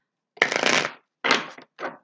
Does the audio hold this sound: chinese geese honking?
no